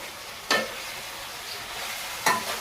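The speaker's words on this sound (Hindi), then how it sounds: "तो सब्जी मैंने छौंक दी है" A vegetable curry sizzles steadily in a pan after tempering, with two distinct scraping stirs breaking through the constant frying hiss.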